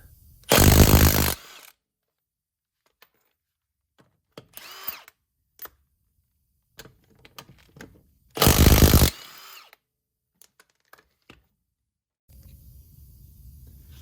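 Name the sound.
impact gun removing tire on a Yamaha Viking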